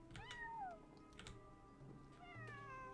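Cat meowing in the Genshin Impact video game, several drawn-out, rising and falling meows spaced across a few seconds, close and clear over a quiet game background.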